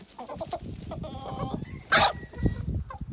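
Roosters, including a blue cuckoo-patterned cockerel among ornamental breeds, squabble and cluck close by in a busy flock, with a sharp burst of flapping or squawking midway.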